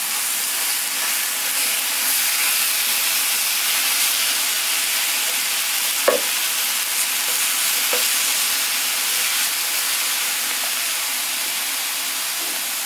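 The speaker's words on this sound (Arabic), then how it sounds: "اول حاجه هنعملها دلوقتي ان احنا هنعصج اللحمه المفرومه بتاعتنا." Minced meat sautéing in a pan with no fat or oil, giving a steady broadband sizzle with a few faint scrapes of stirring.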